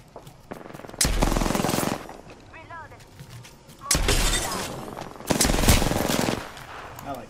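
Repeated bursts of automatic gunfire from a first-person shooter video game, loud and close, arriving in three heavy volleys with quieter stretches of game noise between them and talk running underneath.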